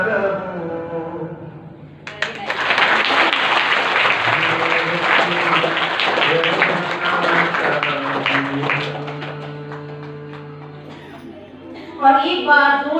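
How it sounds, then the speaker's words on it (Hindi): Audience applause fills a school Republic Day celebration at a girls' inter college, a loud sustained wash of clapping that follows music and song, then fades as a voice speaks over the hall. "और एक बार जोरदार तालियां"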